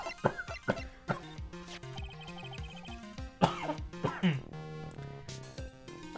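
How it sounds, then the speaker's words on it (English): A series of sharp, harsh coughs in quick bursts, close and loud, with music playing steadily underneath. "Oh no, not a cough."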